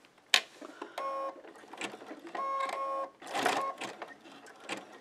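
A sewing machine stitches a fabric rope coil into an embroidered bowl, with short bursts of whirring, evenly pitched stitching separated by pauses, clicks and handling noises close by.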